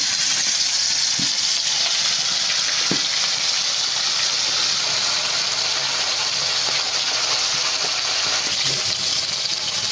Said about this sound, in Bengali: তেলটা গরম হয়ে গেছে, এক এক করে মাছগুলোকে ছেড়ে দিচ্ছি।